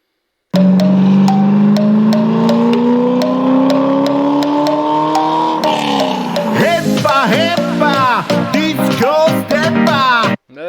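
A sports car engine revs loudly and steadily with a rising pitch, then gives way to a burst of loud, busy sound with a voice-like or music-like character that continues to the end.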